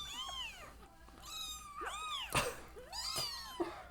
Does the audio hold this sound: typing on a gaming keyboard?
no